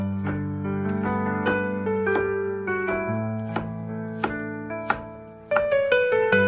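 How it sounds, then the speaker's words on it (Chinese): A kitchen knife cutting peeled Chinese yam into thick slices on a board, sharp, close chopping taps at an irregular rhythm over steady background music. "我们把山药给它切成薄片"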